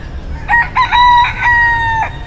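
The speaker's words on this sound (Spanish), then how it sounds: "Por ahí he escuchado gallos cantando." Roosters crowing in a McDonald's drive-thru parking area in Miami: one loud, close cock-a-doodle-doo call with a stuttering start and a long held final note, standing out over faint background noise.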